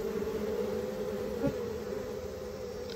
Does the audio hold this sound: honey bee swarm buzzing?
yes